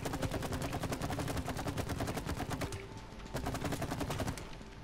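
Rapid gunfire in the video game It Takes Two: dense bursts of repeated shots that start, pause briefly near the three-second mark, then resume, staying loud and steady throughout with no talking.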